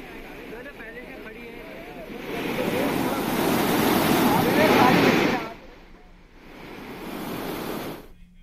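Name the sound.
floodwater rushing in overflowing Dhangarhi drain after heavy rain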